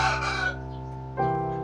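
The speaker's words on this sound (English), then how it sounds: "Forgive the noise of roosters." A rooster crows loudly and close by, a long harmonic call that rises, holds, then breaks into a second strained burst near the end.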